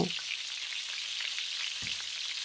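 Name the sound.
pointed gourd (potol) frying in pan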